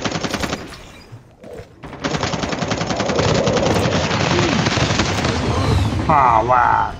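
Rapid bursts of automatic gunfire in a video game crackle almost continuously, loud and close, after a brief pause near the start.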